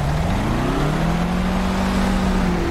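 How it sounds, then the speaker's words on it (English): Car engine revving hard with a loud, continuous roar from inside the vehicle, pitch sweeping upward, no talking heard. "Stop screaming with your engine. I can hear you. It's just popping."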